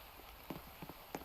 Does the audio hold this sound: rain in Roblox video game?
yes